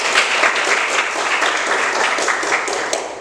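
Students in a classroom clap together, a loud, busy patter of many hands lasting a few seconds before tapering slightly.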